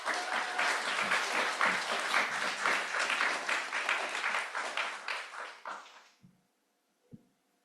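A conference audience gives a steady round of applause, dense hand claps at moderate distance that taper off and stop, leaving a couple of faint thumps.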